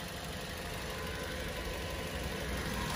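A 2011 Toyota Vios with a 1.5 engine idles smoothly, a faint, even hum heard close, with no other sounds.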